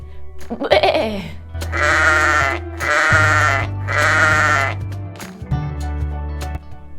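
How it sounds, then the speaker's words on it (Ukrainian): Three long, loud sheep bleats follow one another in close succession, each a wavering nasal cry, after a brief higher animal call at the start, with no talking over them. "А як робить вівця? Вівця каже бе."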